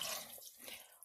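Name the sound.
water filling a can for soup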